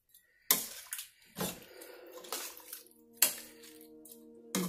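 A small spoon stirs matar pulao with mint in a cooking pot, giving a few separate scraping and clinking strokes against the metal, close and fairly soft, with quiet gaps between them.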